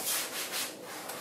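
A cloth wipes a kitchen fridge door, quick soft rubbing strokes close up, faint and brief with no talk.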